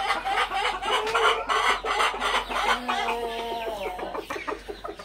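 Several chickens cluck and murmur close by, a busy overlapping chorus of short calls with one drawn-out cackle toward the end.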